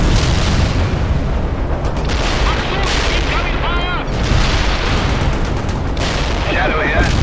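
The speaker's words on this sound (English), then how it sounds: "Firing artillery. Over." Artillery fire in the real-time strategy game World in Conflict: repeated heavy booms and blasts rolling through a dense, continuous battle din, with radio voices speaking over the barrage.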